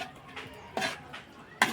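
A spoon stirs flat bean (chikkudukaya) curry with tomatoes and oil in a pan, giving a few soft scrapes and clinks at an unhurried, uneven pace.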